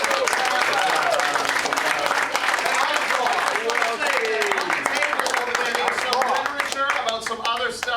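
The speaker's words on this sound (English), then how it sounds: "A big round of applause for you guys." A theater audience gives a troupe a big round of applause at the close of the show, dense sustained clapping with cheers mixed in, loud and steady throughout while voices carry over it.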